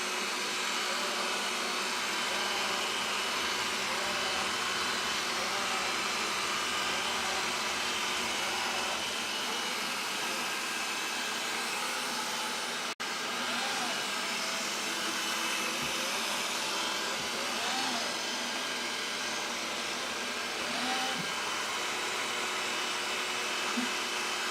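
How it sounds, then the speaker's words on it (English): A Xiaomi Roborock S50 robotic vacuum cleaner cleans a floor with a loud, steady, close whirring drone of motor and suction that runs unbroken the whole time, with only slight shifts in tone as it moves around. "So it's happily doing the vacuuming right around and inside,"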